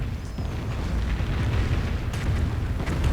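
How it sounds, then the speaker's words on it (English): Rocket artillery barrage from Calliope launchers in a strategy video game, a dense continuous low rumble of overlapping blasts and booms lasting throughout with no voice. "And another Calliope barrage."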